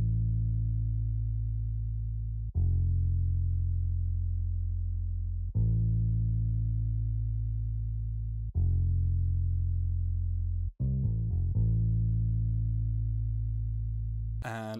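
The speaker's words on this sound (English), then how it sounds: "Next, I use this fingered mute bass, which is from my upcoming kit, that sounds like this." A fingered mute bass sample plays a slow sequence of deep, sustained, dark notes, each held for a few seconds before the next attack, with a quick run of short notes near the end.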